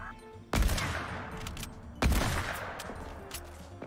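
Two loud bursts of Fortnite Battle Royale gunfire, each a sharp crack followed by a rolling ringing tail, spaced about a second and a half apart, with faint game sounds between.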